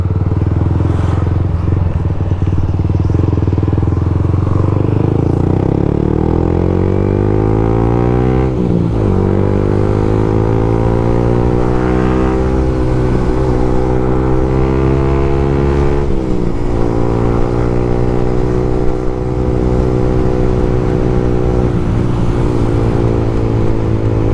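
A motorcycle rides in congested New Year traffic near Tagaytay in the Philippines. The engine drones loudly and steadily up close, rising and falling as the rider shifts and revs, with wind rush and the murmur of other vehicles around it.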